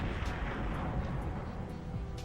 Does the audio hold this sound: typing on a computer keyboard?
no